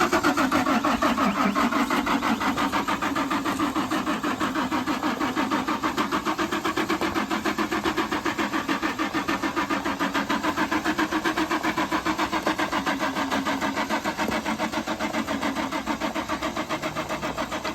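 A Ford Ranger Baja build truck's starter cranking the engine: a steady, rapid whirring churn that repeats for many seconds without catching, close and fairly loud.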